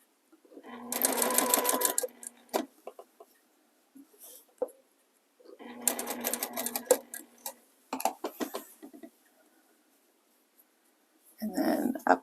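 A sewing machine stitching a fabric table runner runs in two loud whirring bursts of rapid needle strokes, separated by quiet gaps with small clicks and handling noises, and a short final run at the end.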